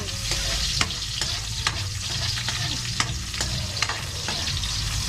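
Garlic and onion fry in a hot pan with a dense, steady sizzle, broken by sharp clicks and scrapes as a utensil stirs, close and loud with no voices.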